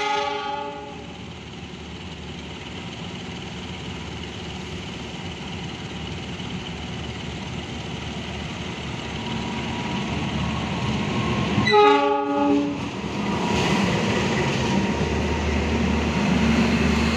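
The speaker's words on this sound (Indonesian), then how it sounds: "Inilah kedatangan KA Argo Dwi Bangga New Generation" An arriving KA Argo Dwipangga New Generation passenger train rumbles steadily past for several seconds, then sounds a loud, brief horn blast around the midpoint, with the heavy rolling roar continuing afterward and no talking.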